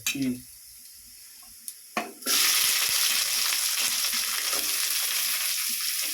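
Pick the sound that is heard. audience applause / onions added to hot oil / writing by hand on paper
onions added to hot oil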